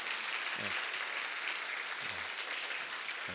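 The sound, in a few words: applause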